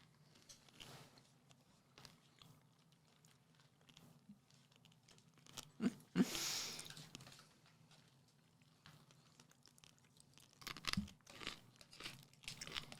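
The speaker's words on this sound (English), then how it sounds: "you can kind of hear the crunch of the cornflakes through the speakers" Cornflakes crunch faintly through speakers in quiet, scattered bursts, a few louder crackling crunches near the middle and toward the end, with no talk over them.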